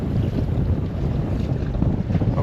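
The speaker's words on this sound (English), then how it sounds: "it is really windy today." Strong wind of around 20 knots roars steadily over open water beside a small fishing boat, a loud, continuous low rumble with gusty buffeting against the microphone and no pauses.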